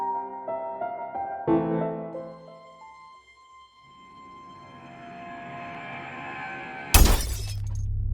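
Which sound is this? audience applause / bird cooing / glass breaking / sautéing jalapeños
glass breaking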